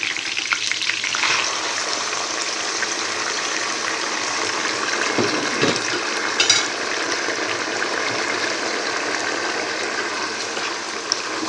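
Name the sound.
stirring vegetable soup in a pot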